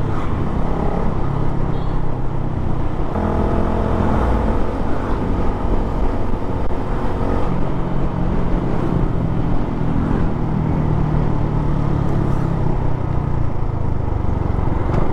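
A motorcycle fitted with an Akrapovic exhaust, silencer and dB killer revs, rising and falling around a steady muffled drone that stays fairly subdued, heard close up for the whole stretch without talking.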